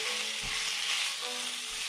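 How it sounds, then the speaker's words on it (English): Steady, dense sizzling of pork frying in a pan for adobo, with a couple of soft low scrapes as it gets stirred. "This is sizzling away here. Give it a wee stir."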